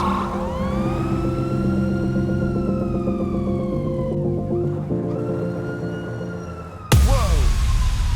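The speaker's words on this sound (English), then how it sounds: "We heard a police siren coming from behind us and there was a police chase." A wailing police siren in Grand Theft Auto V rises and falls continuously during a police chase, loud and close, with engine hum underneath, then a sudden louder burst near the end.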